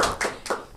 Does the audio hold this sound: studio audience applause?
yes